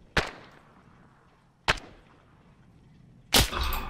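Three separate sharp gunshots in the military game Arma, spaced well apart and fairly distant, against otherwise quiet surroundings, with the last crack slightly fuller and trailing off.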